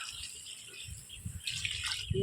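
Water saved from washing rice is poured into a pot of curry during village cooking, a quiet, uneven gushing splash with a few soft rattles, heard close without any talking.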